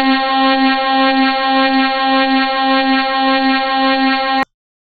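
A steady, droning electronic siren tone holds at one pitch for about four seconds, loud and close, then cuts off abruptly into silence.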